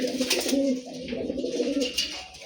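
A silver-line Jabra pigeon, a breeder bird, coos in a steady rolling murmur that carries on close by with no talk over it.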